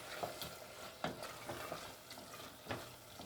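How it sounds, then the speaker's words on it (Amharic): Meat with oats fries in a pan for Ethiopian aja kinche be siga, with soft intermittent stirring scrapes over a quiet, steady sizzle, faint and close, with no talk. "በቃ አሁን መጥበስ ነው።"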